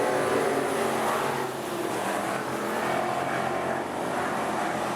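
AMCA speedway race cars roar around the Rockhampton Speedway track in a continuous, distant-sounding engine drone that swells and eases slightly.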